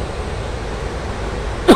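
A stream pouring out from the Dray Nur hydropower waterfall gives a constant broad rush of water, with a single sharp cough close by near the end.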